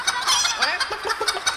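A concert audience at a Barney show imitates a hen or chicken with a burst of many overlapping clucking voices, choppy and rhythmic, filling the short moment without other talk.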